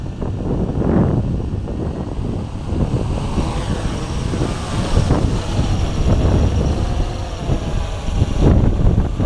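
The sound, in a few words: wind blowing into microphone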